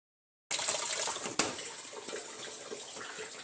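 A water tap runs into a container being filled for washing clothes at home in a village, a steady close hiss of pouring water that starts abruptly after a moment of silence, with a brief clunk partway through.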